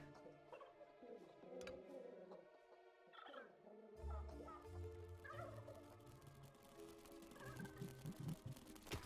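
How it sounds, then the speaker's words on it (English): Poultry in the video game Dungeons 3 clucks and gobbles over a steady layered game soundscape, with a few brief bird calls standing out. "There's chickens over here. You can eat them."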